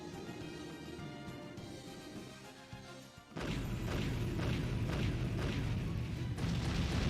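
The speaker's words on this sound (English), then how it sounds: "Freaking cannons, bro!" Cannon fire in a full-scale assault scene from the video game Bravely Default: loud, dense booming blasts burst in after a quieter stretch of game music and continue heavily to the end.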